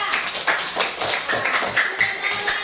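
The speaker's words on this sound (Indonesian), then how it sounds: "Kita beri aplaus yang meriah" A classroom group applauds after a student group presentation, giving a short, dense burst of many hands clapping that is lively and fairly loud.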